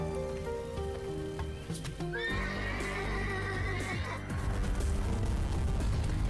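Horses neigh and whinny with clip-clopping hooves in The Legend of Dragoon role-playing game, a loud whinny rising near the middle over a steady bed of game music and ambient rain-like noise.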